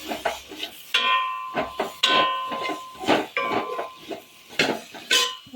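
Bitter gourd pieces stirred into egg curry in a pan, with repeated clinks and scrapes of a metal spoon against the pan in an irregular rhythm, close and fairly loud, no talking.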